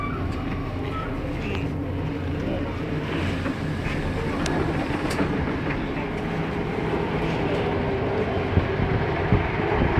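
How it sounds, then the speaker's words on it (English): A train pulling into a station on the line from St Ives to Lelant Saltings in Cornwall gives a steady rumbling, rattling rolling noise with faint squeaks. It is close, loud and continuous, and there is no talk over it. "here we are pulling into the station, and it's time to leave the train"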